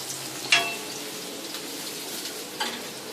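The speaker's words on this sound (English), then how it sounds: "They're just frying in some shallow oil there." Chillies and garlic sizzle softly and steadily in shallow oil in a pan, with a couple of sharper clinks or stirs breaking through the frying.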